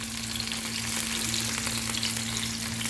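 Mildly hot chilies fry in a pan with a dense, continuous sizzle and crackle, steady and close, with a low hum running underneath.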